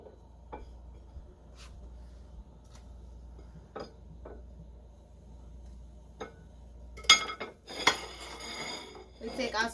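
A utensil cuts Trinidadian cornmeal dumplings in a pot, giving sparse, sharp metallic clicks and taps that turn into a busier clatter toward the end.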